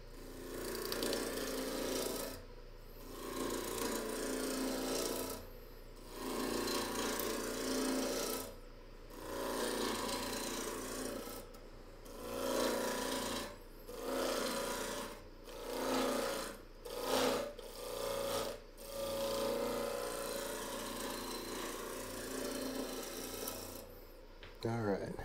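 A wood lathe spins at 2,000 RPM while an incense burner is turned, with a rasping hum from the cutting broken by repeated short pauses where the tool lifts off the wood.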